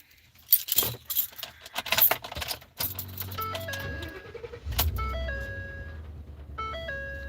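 A Ford F-150 pickup's 5.0-liter engine cranks and catches, then settles into a steady rumbling idle, with a chiming tone pattern sounding over it.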